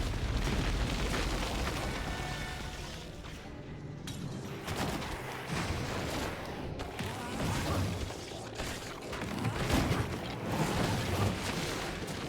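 Generator blowing apart in the Gauntlet video game, a dense, sustained roar of booming, crackling blasts lasting the whole stretch, loud and close with no talking over it.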